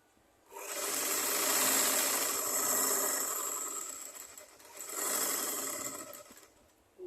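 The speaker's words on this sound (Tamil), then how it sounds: "இப்போ இதுக்கு மேலே ஒரு லேஸ் வச்சு அடிக்க போகிறேன்." A sewing machine stitches lace onto the neckline of a blouse, running in two long bursts with a short pause between them, steady and close with no talking.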